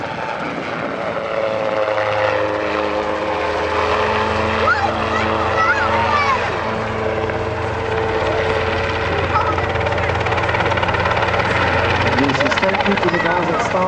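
Loud, continuous rotor and engine drone of a Robinson R22 helicopter flying an aerial display, close and steady throughout, with a person talking over the noise.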